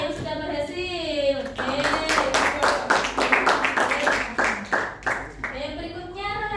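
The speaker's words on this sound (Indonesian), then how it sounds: "Berikan tepuk tangan dulu buat Ica yang sudah berhasil." A classroom of students at SMP Negeri 1 Semarang gives a short burst of rapid, close applause for a classmate. A teacher's voice is heard just before and after the clapping.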